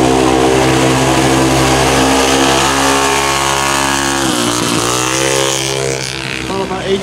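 A 450cc motocross bike in a youth open-class race at River Run roars loudly and continuously with a steady high-revving whine that dips briefly as it shifts and then fades slightly, with faint talk underneath.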